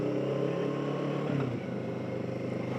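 A motorcycle engine runs steadily and close by, with a continuous droning hum and a brief lift in revs partway through, no talking.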